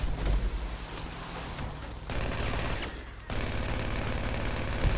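Gunfire in GTA V Online forms a dense, continuous crackling barrage under a busy game soundscape, broken by a brief drop in level before resuming.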